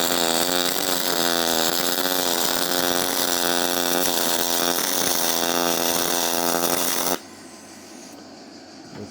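A Vevor 250A MIG welder lays a weld, giving a loud, steady buzzing crackle for about seven seconds before it cuts off to near silence.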